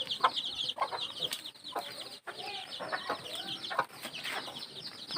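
Free-range native chickens cluck and squawk close by on a Philippine backyard farm near a breeding pen, with repeated overlapping calls and a rooster-like crow mixed in, no talk.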